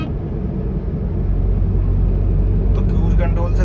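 A Maruti Wagon R CNG car cruises along a highway at a steady speed, its engine and road noise forming a constant low rumble throughout, with a voice talking over the cabin drone.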